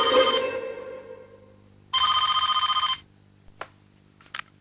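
A telephone rings on an outgoing call, sounding one clear electronic ring burst after fading background music, then a couple of faint clicks.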